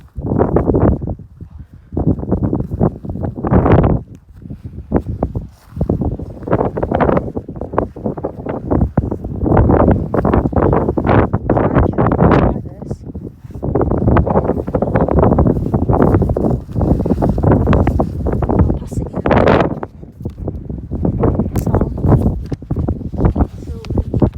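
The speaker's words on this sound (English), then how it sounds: "A bit windy up here." Strong wind on a rocky hilltop near Leek, Staffordshire, buffets the microphone in heavy gusts, roaring in bursts with brief lulls between them.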